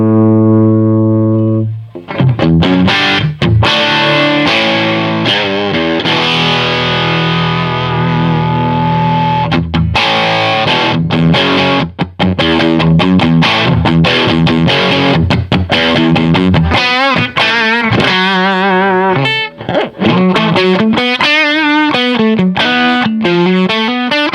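Sovtek MIG 30 guitar amplifier cranked for mid crunch distortion, a loud, continuous electric guitar playing with sustained distorted chords and riffs throughout.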